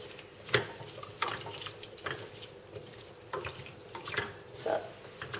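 Vegetable stock poured into a soup pot of pumpkin and chickpeas for a rosemary winter soup, a soft liquid splashing and trickling in short bursts at close range, fairly quiet, with no talking.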